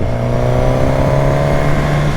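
A 2023 Suzuki GSX-S1000 motorcycle, its engine derived from the 2005 GSX-R1000, revs loudly and steadily up close, a dense continuous engine roar that climbs slightly in pitch with no talk over it.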